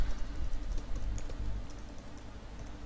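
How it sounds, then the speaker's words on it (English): Fingers type on a computer keyboard while a wireless network interface is configured with iwconfig and tcpdump, giving faint scattered key clicks over a low, steady room rumble. "If I can hit right the right keys on the keyboard,"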